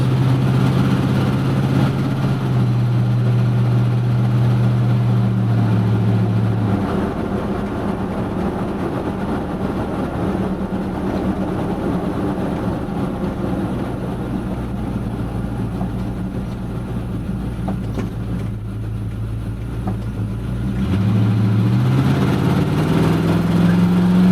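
A 1977 Ford F100 truck engine on its first drive in about 14 years: a steady low droning hum that dips slightly midway and then rises again, with no talk.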